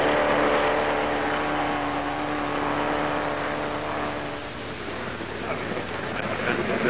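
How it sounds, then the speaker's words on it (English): Triumph TR2 sports car on a speed test run, its four-cylinder engine running on all cylinders as a steady loud roar with wind rush that eases slightly partway through, with narration over it. "In a very short time, the car's away again, this time with the engine really chiming on all four."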